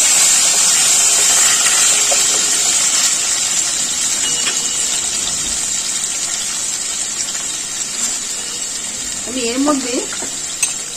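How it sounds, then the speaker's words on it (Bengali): Diced potatoes fry in a pan with a loud, continuous hiss of hot oil. Scraping stir strokes come near the end, and a voice speaks briefly over the sizzle. "এবার আমি একটু নাড়াচাড়া করে দেবো।"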